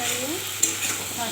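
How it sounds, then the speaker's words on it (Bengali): Vegetables with sidol and pumpkin being stirred in a pan, a brief close scrape of a spatula over a steady sizzle, with one sharp knock midway. "সবজিগুলোকে ভালো করে নাড়িয়ে"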